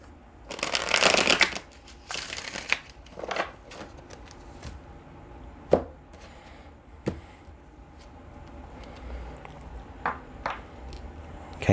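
Tarot cards being shuffled by hand, a few quick riffling bursts near the start and then softer scattered taps and slides of the deck, close and quiet.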